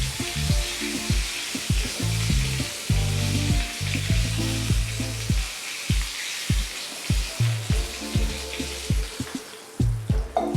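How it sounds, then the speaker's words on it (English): Chicken lollipops fry in hot oil with a loud, continuous sizzle, crackling up close alongside repeated rhythmic scraping and stirring of the pan. "once we start frying, and we got it fried up on the bottom side"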